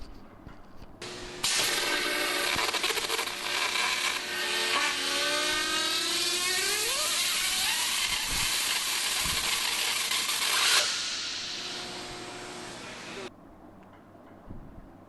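Magnetically impelled arc butt (MIAB) welding sends out a loud, steady hiss, with a rising whine shifting in pitch through the middle. It runs about twelve seconds and then cuts off, leaving quieter background.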